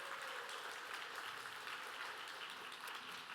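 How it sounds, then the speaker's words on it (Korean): A church congregation applauds in welcome during a Sunday service, a soft, distant, even patter of many hands that continues without a break. "환영하는 박수 한번 하실까요?"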